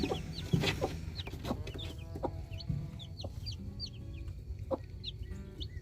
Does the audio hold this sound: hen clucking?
yes